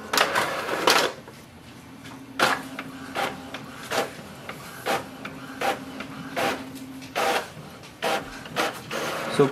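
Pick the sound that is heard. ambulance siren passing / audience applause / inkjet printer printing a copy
inkjet printer printing a copy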